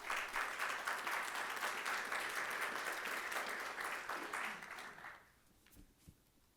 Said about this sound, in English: So I do want to give you a round of applause and say thank you.